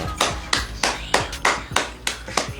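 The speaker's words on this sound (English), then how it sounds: "clapping for that, man?" A single person claps their hands slowly and deliberately, about eight or nine crisp, evenly spaced claps at close range, set in a casual podcast conversation about a gospel artist winning an award.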